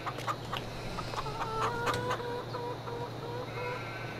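Chickens cluck and call in short bursts against a steady low hum, fairly close, with no talking, in the video game Farming Simulator 22.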